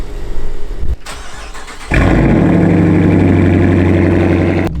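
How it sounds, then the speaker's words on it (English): A stock Dodge Challenger R/T in a garage cranks briefly, then its engine catches with a loud roar and settles into a steady, deep idle that runs to the end, close up with no talk. "I'm gonna drive the Challenger."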